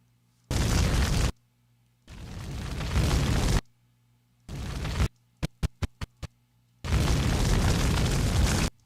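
Fiery explosions, fireworks or dragon fire: four long roaring blasts separated by silences, plus a quick run of five sharp pops, all loud and close with no voices.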